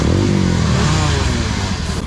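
An offroad motorcycle engine revs loud and close on a Sunday group ride, a throbbing mid-pitched roar that rises and falls and runs throughout without talk.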